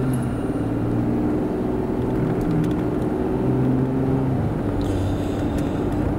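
Interior road noise inside a moving car: a steady, close low rumble and hum that runs unbroken throughout, with no voices.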